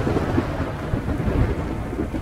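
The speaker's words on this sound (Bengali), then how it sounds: "কাছাকাছি কোথাও একটা ভয়ঙ্কর বাজ পড়ল।" A nearby thunderbolt strikes during a village rainstorm, a loud, continuous rumbling crash layered over steady heavy rain, filling the short stretch without pause.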